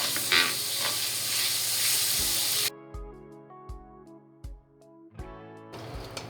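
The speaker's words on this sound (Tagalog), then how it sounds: "To fry our ox fillet or tenderloin mga cooking ina, we need to put in a very high heat" Beef tenderloin (ox fillet) frying in butter over very high heat, a steady loud sizzle and hiss for the first few seconds, then dropping to quieter spitting with music playing underneath.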